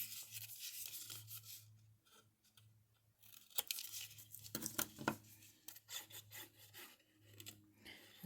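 Paper is cut at an angle with scissors for an electric-mixer-shaped treat box, giving close, scratchy snips and rubbing crinkles in uneven bursts over a low background hum.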